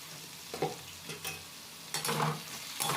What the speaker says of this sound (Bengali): এটাকে অনবরত নাড়াচাড়া করে যেতে হবে যাতে কড়াতে বসে না যায় বা পুড়ে না যায়